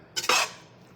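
Starchy pasta water splashes into a pan of pasta alla gricia in one short close pour that fades quickly, with no talking.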